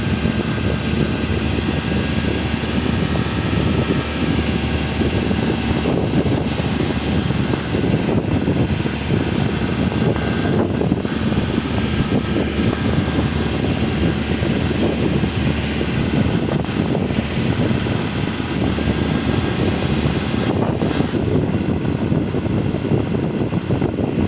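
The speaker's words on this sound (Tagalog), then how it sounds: "Sobrang lakas ng hangin." Strong, steady wind roars continuously at height on a tower in Saudi Arabia, with a broad rushing noise and low rumble, unbroken and fairly loud throughout.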